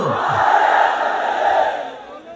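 A large outdoor crowd at a religious gathering roars back "Allahu Akbar" in unison after a takbir call, a loud, sustained mass chant of voices lasting a couple of seconds before fading.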